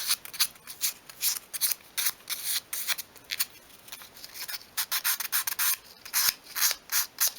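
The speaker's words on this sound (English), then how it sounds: "you can also work the sandpaper from front to back, just to give it a nice sort of beveled edge" Sandpaper is worked over the edge of a small wooden piece for a 1/12 scale chest of drawers, giving quick repeated close rasping strokes in an uneven back-and-forth rhythm, alone with no talk.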